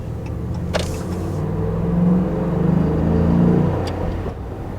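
A RAM 1500 pickup with a HEMI V8, MOPAR cold air intake, 2-inch lift and 35-inch aggressive tires cruises around 30 to 40 mph, its engine a steady low rumble that swells gently as it accelerates.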